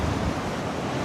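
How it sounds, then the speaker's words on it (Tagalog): Big sea waves breaking on Saud Beach in Ilocos Norte: a brief, loud, continuous wash of surf mixed with heavy wind buffeting the microphone, with no voices. "lalaking alon"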